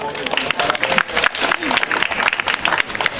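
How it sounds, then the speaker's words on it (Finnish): An audience at a chili pepper event applauds the winners, with dense, uneven clapping and crowd noise rising and falling in bursts, fairly loud and close, with voices mixed into the cheering. "Annetaan voittajille aplodit."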